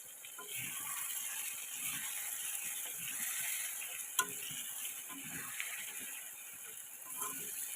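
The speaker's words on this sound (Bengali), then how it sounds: "সব চিকেনগুলো আমি দিয়ে দিচ্ছি, এবার এইটাকেও সেমভাবে ভেজে নেব।" Continuous crackling sizzle of chicken chaap frying in oil, fairly quiet and steady, with occasional clicks and scraping.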